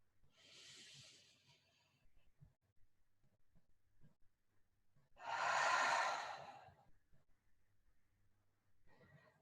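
A slow deep breath in and out, soft and close, with a long audible exhale swelling in the middle against a quiet room.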